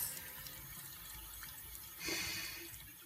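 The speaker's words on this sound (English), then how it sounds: "just keep drinking the water out of the faucet" Water running steadily from a faucet, a soft, continuous hiss with a brief swell of splashing partway through, quiet and close.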